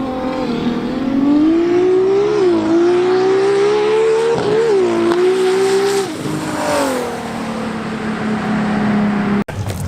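A Toyota Supra at a drag strip roars past with a rising engine note and shifting revs, loud and close, fading slightly before a brief sharp click at the end.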